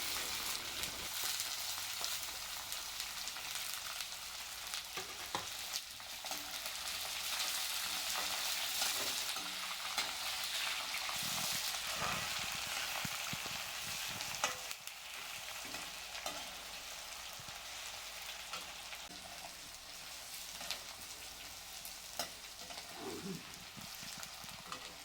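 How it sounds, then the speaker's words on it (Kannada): Onions fry in a pan with garlic and chana dal for a bitter gourd curry, a dense, steady crackling sizzle with occasional spatters and stirring, close and without talk. "ಈಗ ಈರುಳ್ಳಿಯನ್ನು 2ರಿಂದ 3 ನಿಮಿಷ ಚೆನ್ನಾಗಿ ಫ್ರೈ ಮಾಡಿ"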